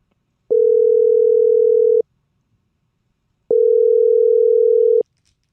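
A telephone line tone on a three-way call sounds as two long, steady, loud electronic beeps of about a second and a half each, separated by a silent pause.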